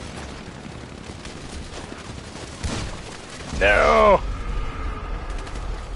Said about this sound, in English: Just into a hail of gunfire with just a pump action